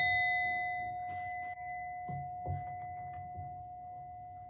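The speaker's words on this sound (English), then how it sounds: "We ring the gong 3 times" A gong rung at a Sunday service sustains a long, pure shimmering tone that fades slowly across the stretch, with soft knocks and shuffling beneath it.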